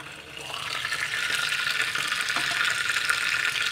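A cup of water poured into a pan while making moong dal dhokla, heard as a steady, close splashing stream that builds slightly and runs throughout.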